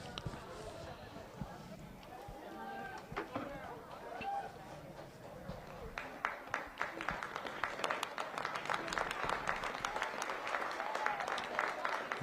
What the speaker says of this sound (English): Yes, round of applause for Hayhurst, who we do hope is okay as fast as possible.